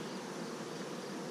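Honeybees buzzing during a June hive inspection, a faint continuous hum from the open hive with no talking.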